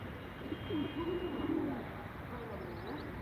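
Tumbler pigeons, Ankara play birds, give soft throaty coos close by with a faint background hum; a voice may murmur faintly.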